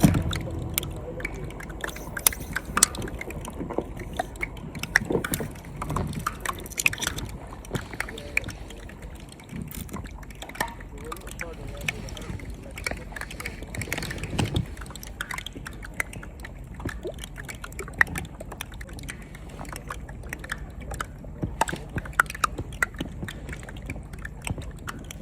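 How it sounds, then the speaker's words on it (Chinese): Melting Antarctic glacier ice in the sea releases pressurized air bubbles, a dense, irregular crackle of tiny close pops and clicks that continues without pause for the whole stretch. "这个像噼噼啪啪跳跳糖一样的声音，是冰川里经过挤压形成的高压气泡，随着冰块融化而释放出来的声音。"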